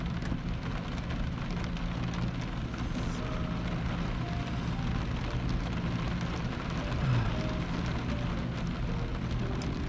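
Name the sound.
rain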